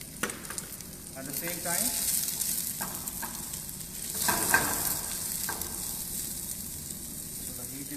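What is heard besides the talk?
garlic and onions frying in a pan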